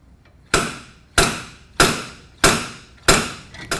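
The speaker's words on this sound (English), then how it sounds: "I've hooked up a hub puller to this particular hub unit, and we're going to use this to remove the hub assembly" A slide-hammer hub puller strikes again and again to free a rusted hub assembly on a 2002 Chevy Suburban. Five sharp, loud metallic blows land at a steady pace with no talking.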